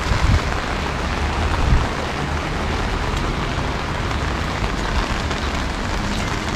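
Strong wind and rain at Lazarevskoye on the Sochi coast make a steady, loud broadband roar with gusty buffeting against the microphone, continuous throughout with no voices.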